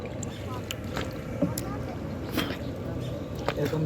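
A small boat glides over a calm, clear lake, with a steady low churn of water and wind buffeting the microphone, and a few light splashes and knocks close by.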